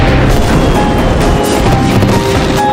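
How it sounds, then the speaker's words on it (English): A loud, sustained roaring boom with crackling debris filling the whole stretch, heavy and dense with no voices. "another explosion sends debris flying."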